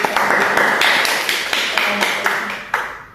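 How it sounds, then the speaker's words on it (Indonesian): An audience at a university podcast event claps together in even, quick strokes, crisp repeated slaps at close range that gradually thin out and fade. "boleh kita tepuk tangan dulu"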